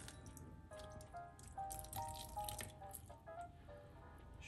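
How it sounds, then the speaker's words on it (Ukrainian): Water poured into a bowl of simple homemade bread dough while it is mixed with a fork, giving a faint, steady trickle with soft splashes and drips, close and quiet, with no voice. "Додамо ще 50 води"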